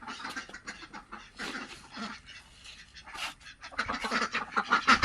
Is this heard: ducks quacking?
yes